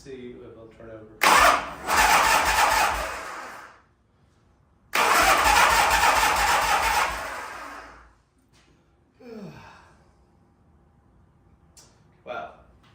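An old Harley motorcycle engine cranks over in two long bursts of churning starter noise, each a few seconds, with pauses and quieter handling noises between.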